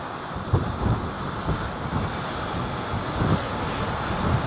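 WestJet airliner taking off at London Heathrow in windy weather, a steady low rumbling engine roar heavily buffeted by wind noise on the microphone, with no talk.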